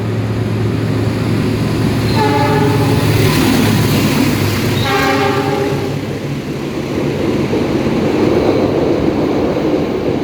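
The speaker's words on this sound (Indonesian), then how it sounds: "kita sebenarnya akan disusul oleh kereta api Turangga dari stasiun Bandung menuju ke stasiun Surabaya Gubeng" The Turangga train from Bandung to Surabaya Gubeng passes on the railway with a loud, continuous rumbling roar, and two horn-like tonal blasts rise above it mid-clip.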